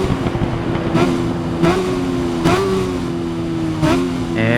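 BMW S1000RR superbike engine in the Ride 5 racing game, a sustained high-revving mid-pitched drone with several sharp rises and dips as gears shift, loud and continuous throughout, no voices.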